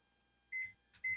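An oven control panel beeps twice while preheat is set, two short clean tones a half second apart, near and alone.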